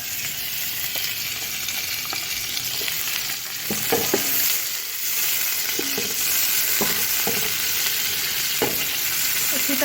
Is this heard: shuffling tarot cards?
no